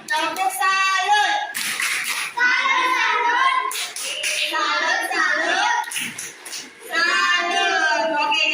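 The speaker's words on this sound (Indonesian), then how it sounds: "Tepuk salut untuk Nurul." Classroom children perform a clap chant together, their voices chanting in unison with short bursts of clapping breaking in between the chanted lines.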